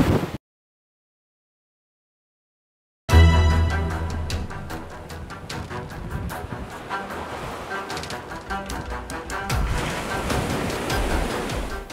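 Storm-surge waves pound the Hemsby coast, a loud, continuous roar of surf and breaking water with wind, starting abruptly after a brief silence and sustained at close range.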